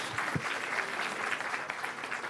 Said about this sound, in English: Give a big round of applause to Mr. Mayor from the 40th District.